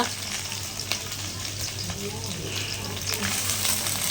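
Dried anchovies frying in hot oil in a kadai, a loud, continuous close-up sizzle and crackle that holds steady and swells slightly toward the end.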